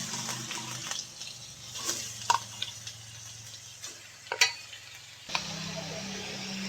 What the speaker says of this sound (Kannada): ಈ ಥರ ಚೆನ್ನಾಗಿ ಇದನ್ನು ಹುರ್ಕೊಳ್ಬೇಕು